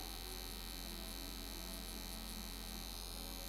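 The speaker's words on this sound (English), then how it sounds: "I use my favorite rocket machine and a Tandeloid needle" A permanent makeup rocket machine fitted with a needle buzzes in a steady, continuous electric hum during a powder brow treatment, close up and unbroken, with no talking.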